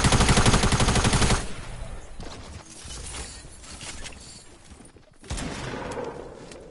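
Rapid automatic gunfire from the Fortnite Battle Royale video game, a loud burst of rattling shots at first, then quieter scattered firing and game noise, and another louder burst near the end.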